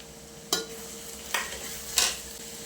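Onions and slit green chillies fry in a large pan for a bulk ghee rice and chicken curry order, a steady low sizzle broken by three sharp scraping stirs, close up, no talking.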